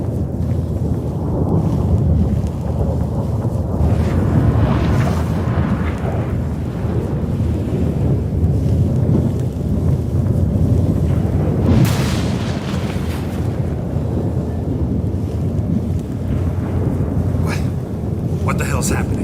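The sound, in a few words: storm with thunder in a video game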